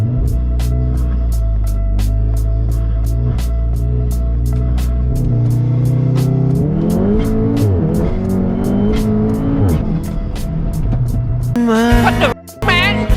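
An MK7 Golf R running E85 sits at launch revs with a steady, rapid popping beat, then launches hard, its engine climbing in pitch through several gear changes, loud and close.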